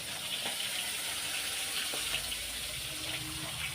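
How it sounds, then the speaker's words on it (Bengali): Tap water runs steadily into a bucket or sink in a home kitchen while hands are rinsed, a continuous close splashing gush with small clinks. "আমি হাতটা ধুয়ে নিই"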